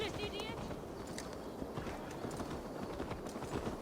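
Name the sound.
horse hooves clip-clop in video game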